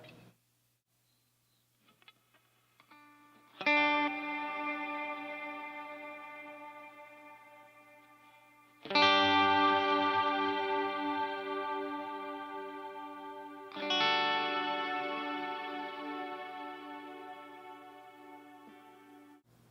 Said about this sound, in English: That was no delay on either, it was just strictly the reverb.